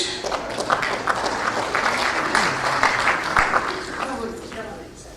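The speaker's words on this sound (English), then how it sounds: "Give him a round of applause." Audience applause at a Frankston City Band 60th anniversary concert: dense, sustained clapping from a sizeable crowd, with voices mixed in underneath.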